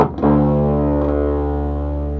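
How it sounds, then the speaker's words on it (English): Bass guitar with an active pickup played through a small Line 6 Micro Spider amp, a single sustained low note ringing out with a buzzy, distorted edge and slowly decaying, with no voices. "That distortion's just there at this bit because it's such a wee amp."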